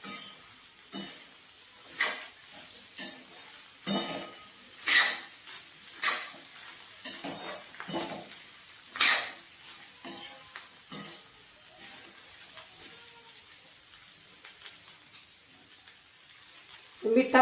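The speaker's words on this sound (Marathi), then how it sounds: "आपण आता हे मिश्रण व्यवस्थित मिक्स करून घेऊया।" A spoon scrapes and knocks repeatedly against a pan while a masala okra bhaji mixture is stirred, irregular sharp clatters over a faint background sizzle.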